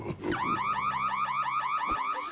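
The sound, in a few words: alarm going off in a LEGO animated film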